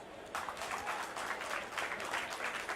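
An audience at an animal-welfare event at Mithibai College in Mumbai breaks into applause, a sudden onset of many hands clapping that swells and continues steadily to the end.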